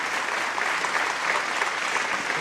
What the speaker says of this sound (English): A big round of applause for Bongo and Ahad Bongo Bhai.